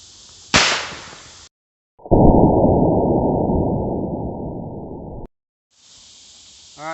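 A .22 LR Mini Mag hollow point round fired into a ballistic gel coconut: one sharp, loud crack near the start, then a long burst of hissing noise and brief quieter stretches.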